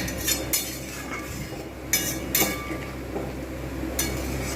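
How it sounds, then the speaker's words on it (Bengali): A lid goes onto a cooking pot of bhetki fish bone curry, giving several sharp metallic clinks and taps over a low kitchen background, with quiet pauses between them. "আমি একটু ঢাকনা দিয়ে এতে রেখে দেবো"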